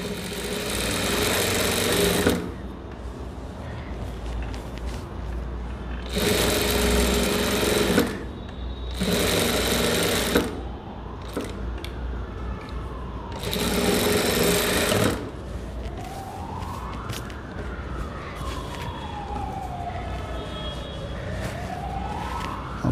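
Sewing machine stitching the sleeve edge of a four-dart blouse, running in loud bursts of a few seconds separated by pauses, with a rising and falling siren wailing faintly in the background.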